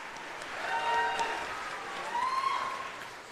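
Audience applause for a high school symphonic band at an all-county concert, a steady wash of clapping swelling briefly and holding at moderate loudness, with faint tonal traces underneath.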